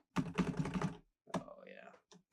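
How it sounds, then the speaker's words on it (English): Fast tapping on a nice tippy-tappy computer keyboard, recorded close through a RockBand 2 USB mic, with two quick bursts of clicks, a murmuring voice and a short pause. "I want to use this keyboard. My nice tippy-tappy keyboard."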